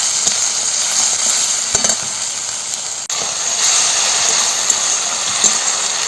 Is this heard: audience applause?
no